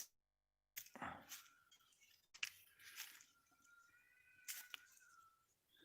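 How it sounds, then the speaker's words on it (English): A faint cat meows once with a drawn-out, wavering cry, among quiet rustles and soft clicks. "No, that's a cat."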